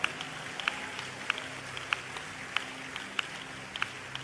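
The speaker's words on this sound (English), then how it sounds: "Let's give them a big, big hand clap." A church congregation claps hands in a slow, regular beat, soft and somewhat distant, each clap standing out over a low background hum.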